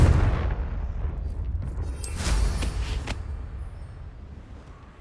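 A Confringo blasting spell explodes in Hogwarts Legacy, a loud, deep boom rolling at the start and swelling again midway before slowly fading out, with no talk over it.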